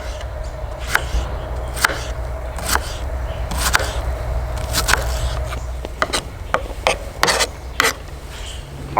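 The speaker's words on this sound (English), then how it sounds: "This PKS Campmaster sure makes cutting this kind of stuff up a joy." A PKS Campmaster knife with a 3/32-inch-thick blade slices food for a camp recipe, making a series of crisp, close cutting strokes that quicken toward the end, over a soft outdoor background.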